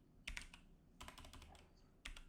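Keys clack on a computer keyboard while someone types a command on a Garuda Linux i3 desktop, with quick bursts of taps separated by short pauses. The keystrokes are close and fairly quiet, with no talking.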